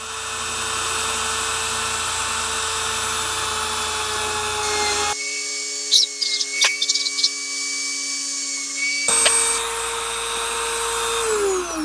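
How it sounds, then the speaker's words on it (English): A drill bores stitching holes in a custom axe mask, whining steadily for several seconds, stopping briefly amid light clicks and handling taps, then starting up again, close and loud. "Just drill your holes and you'll be ready for stitching."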